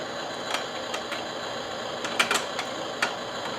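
A hook attachment clicks onto a Huina 1577 toy forklift, a handful of short, sharp plastic clicks and snaps close up over a steady low hiss.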